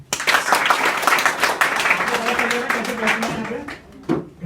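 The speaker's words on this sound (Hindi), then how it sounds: "ताली बजाने के लिए।" Clapping from children and adults at a school in Shahgard, brisk rapid claps with voices talking over them, then tapering off.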